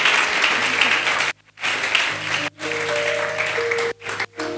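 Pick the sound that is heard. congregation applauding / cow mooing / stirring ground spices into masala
congregation applauding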